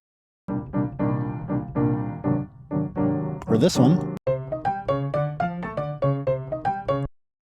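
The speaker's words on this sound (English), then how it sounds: "what you just heard was someone playing on a real acoustic piano" A real acoustic piano rings out in a short looping phrase, chords then a livelier run of single notes, with a brief voice overlapping in the middle.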